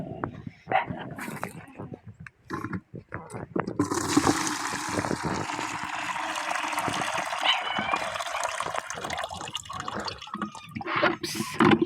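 Water drains from an organic fertilizer mix that has soaked for 24 hours. A few scattered knocks and drips come first, then a steady, close rush of splashing liquid runs to the end.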